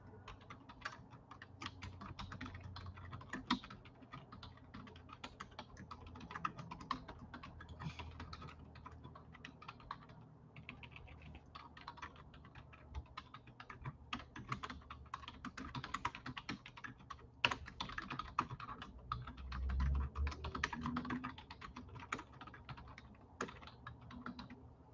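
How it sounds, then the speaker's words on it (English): Steady computer keyboard typing, a continuous stream of quick, light key clicks with brief pauses, close but fairly quiet, running for the whole stretch with no talk. "I'm going to type in"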